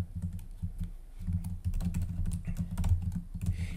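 Keys clatter in a steady run of quick taps on a computer keyboard as a web search query is typed, close and fairly quiet, with a low hum underneath and no talking.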